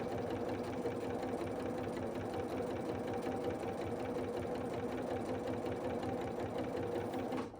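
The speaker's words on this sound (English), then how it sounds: "got it all lined up and ready to sew with a 1/4 inch" A sewing machine fitted with a 1/4 inch foot stitches baby quilt pieces, a rapid, even mechanical whirr and needle chatter running steadily at close range before stopping at the end.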